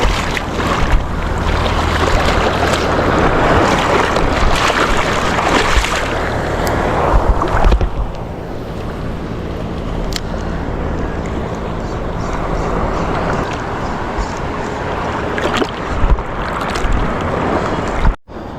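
Rough sea with steady wind and wave wash around a fishing boat at sea, a continuous loud broadband roar that eases slightly partway through, with occasional thumps and splashes.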